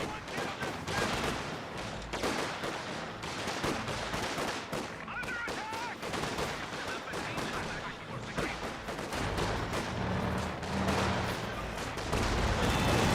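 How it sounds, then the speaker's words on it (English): A quad half-track unleashes sustained automatic gunfire in a Company of Heroes 2 battle, a dense, continuous rattle of rapid shots layered with other battlefield blasts and low rumbles, loud throughout. "Quad half track firing away."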